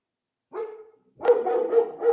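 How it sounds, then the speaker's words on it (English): Several dogs barking excitedly at close range, one short bark followed after a pause by a dense run of overlapping barks and yips. "And the dogs are going crazy."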